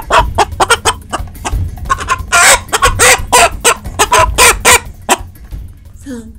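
Chickens cluck loudly and close in rapid bursts of sharp calls, with a rooster's crow rising among them before a short pause and a final squawk.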